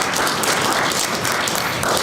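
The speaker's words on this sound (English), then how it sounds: "Let's give those folks a round of applause." An audience at a school district board meeting applauds, a steady, dense wash of clapping that holds evenly for the full two seconds with no voices on top.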